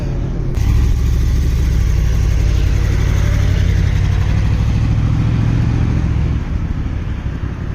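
Kawasaki Ninja 1000 motorcycle fitted with a changed aftermarket exhaust, revving nearby with a loud, deep, rumbling drone that holds steady and then eases off toward the end.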